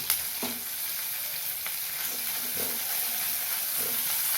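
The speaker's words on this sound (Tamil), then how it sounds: "ஒரு நிமிஷம் வதங்கட்டும் இப்போ கருவேப்பிலை சேர்த்துக்கிறேன்" Curry leaves sizzle steadily in hot oil for a karakuzhambu, with a soft hiss and the odd stirring scrape, close and fairly quiet, no voices.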